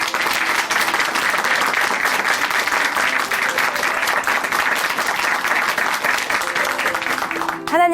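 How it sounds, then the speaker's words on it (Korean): A church congregation at Chuncheon Hanmaeum Church applauding after a testimony, sustained, even clapping from many hands that fills the whole span before cutting off near the end. "오늘 귀한 간증 전해주신 정은석 형제님께 다시 한번 박수 보내드릴게요."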